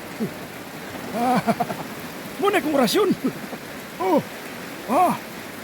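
Steady rain patters softly on banana leaves as a continuous hiss, while a person talks in short bursts close by over the falling water.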